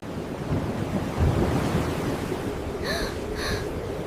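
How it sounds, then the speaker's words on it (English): Rough, churning sea surf with steady wind buffeting the microphone, a continuous roar with brief high tonal streaks near the end. "The wind started to howl. The waves grew tall as houses."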